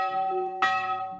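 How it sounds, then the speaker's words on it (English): Church bells ring out at dawn over a vineyard, two resonant strikes in quick succession with a long, shimmering ring hanging between them, loud and clear with no voices. "The bells ring, sharp and urgent."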